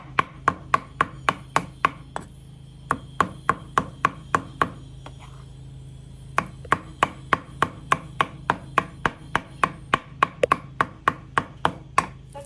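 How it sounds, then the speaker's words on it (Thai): Ingredients for fermented fish chili paste being chopped finely with a knife on a cutting board: brisk, steady, evenly spaced sharp chops, close and clear, with a short pause partway through. "พลิกไปพลิกมา สับให้ละเอียดค่ะ"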